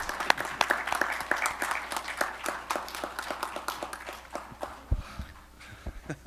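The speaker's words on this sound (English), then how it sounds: "let's give him a big round of applause." A round of applause at a school committee meeting. Scattered, distinct hand claps from a modest group ring out fairly close, start at full strength and thin out over several seconds.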